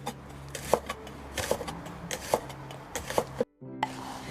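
Knife slicing washed vegetables thin on a cutting board for Vietnamese bánh xèo pancakes, a series of crisp, evenly spaced chopping taps close by over faint background music.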